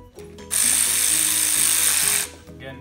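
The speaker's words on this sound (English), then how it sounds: "we're gonna drive these down just till they're slightly snug" Power tool with an 11/16 socket drives exhaust manifold nuts down snug on a Detroit Diesel two-stroke engine, a steady high whine lasting under two seconds, close and loud, between quieter stretches of workshop noise.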